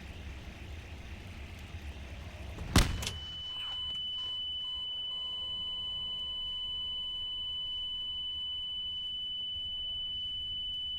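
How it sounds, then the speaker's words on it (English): A steady high-pitched electronic beep from the Half-Life 2 beta game starts abruptly after a brief loud burst and keeps droning unbroken for about eight seconds, loud and continuous, with no voices. "the beep is still happening"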